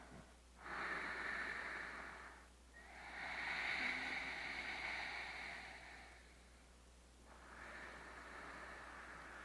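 Slow, hissing Ujjayi yogic breathing with an ocean-like sound during a hatha yoga session, close and soft. Three long breaths with brief pauses between them.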